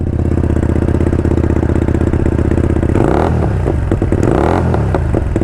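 A twin-cylinder fuel-injected motorcycle engine idles close by with a steady, loping thump, broken midway by brief clattering and small revs.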